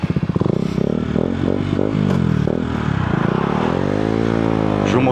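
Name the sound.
KTM Duke motorcycle engine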